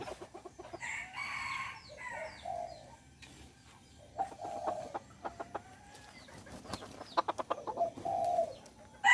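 Free-roaming gamecock chickens clucking and crowing, with scattered short calls, a longer crow near the start and a burst of clucks toward the end, moderately near against a quiet background.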